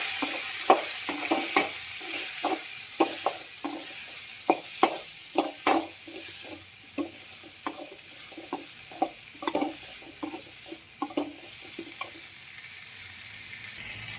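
Tomato, garlic and spices fry in a pan for chicken curry, a soft steady sizzle broken by frequent close scraping stir strokes in an uneven rhythm, with no talk.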